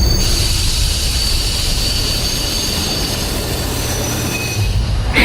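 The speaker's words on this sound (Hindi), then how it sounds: "ट्रेन स्टेशन पर आकर रुकती है" A train rolls into a station and brakes to a halt, its wheels squealing in a loud, continuous metallic screech over a deep rumbling roar, with no voices.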